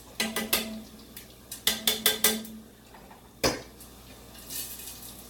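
Halved tortillas cooking in a pan are stirred, giving a few quick bursts of clattering utensil-on-pan knocks, then a single sharp clank and a faint scrape, with quiet gaps between.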